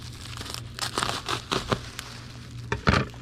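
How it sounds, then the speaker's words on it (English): Plastic bubble wrap being handled and cut in half, a run of close crinkling and crackling bursts with a sharper snip near the end, with no voices. "Sheet of bubble wrap and cut it in half."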